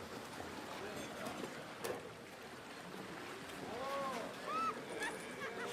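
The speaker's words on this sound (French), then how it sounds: "Tu as entendu le bateau." A boat's engine drones steadily in the distance beneath lapping water, with faint voices and a few bird calls rising over it.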